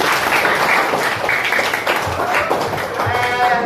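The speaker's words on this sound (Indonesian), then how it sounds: "Beri tepuk tangan kita semuanya." Students in a fourth-grade maths classroom clap together, a steady burst of applause lasting a few seconds, with children's voices mixed in over the clapping.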